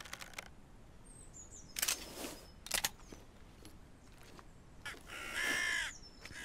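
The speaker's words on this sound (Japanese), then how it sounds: "カラスがやだ。" Crows caw in the video game Jaws of Extinction, set on an island overrun by mutated humans, with several harsh bursts spaced apart and a longer loud call near the end over a quiet background.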